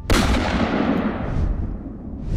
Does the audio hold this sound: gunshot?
yes